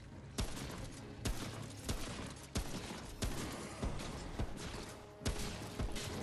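Enemy gunfire in Remnant: From the Ashes: a steady run of sharp shots cracks out about every half second, loud and close over a dense rumbling game mix, with no one speaking.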